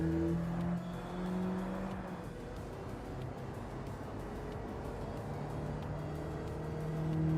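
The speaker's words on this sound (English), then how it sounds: "Listen to that sweet engine sound." Renault Twingo engine in Gran Turismo 7, a steady droning motor tone with shifting pitch, fairly quiet and heard alone without talk.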